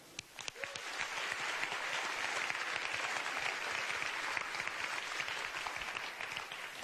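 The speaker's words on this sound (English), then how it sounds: "Let's give a big round of applause to our marvellous dancers from Quatre Parallèles" An audience at the 2019 RegioStars Awards ceremony applauds dancers with a steady round of clapping. A few sharp claps open it, then it settles into an even, fairly distant wash.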